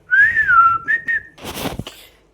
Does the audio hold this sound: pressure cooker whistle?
yes